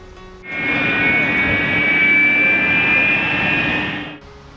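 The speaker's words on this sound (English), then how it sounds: "It's a military plane." A military jet plane engine roars loudly and steadily with a high whining tone, rising in and cutting off after about four seconds, heard alone.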